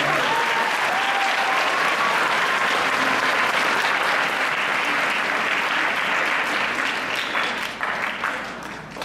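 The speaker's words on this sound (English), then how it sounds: "please a round of applause for the OPA board" Sustained, full applause from a school orchestra concert audience honoring the orchestra parents' board, a dense steady roar of clapping with a faint murmur of voices, tapering slightly near the end.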